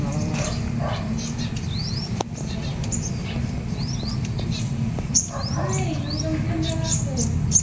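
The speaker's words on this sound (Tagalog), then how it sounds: "ayun, ibon oh." Small bird in a rooftop garden gives several brief high chirps spread across the stretch, faint over a steady low background hum.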